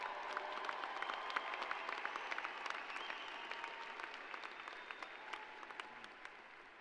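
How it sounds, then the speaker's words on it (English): Applause from a large audience at a university commencement ceremony for the graduating class, steady and fairly distant, with individual claps popping out as it slowly fades. "Yes, they deserve a round of applause"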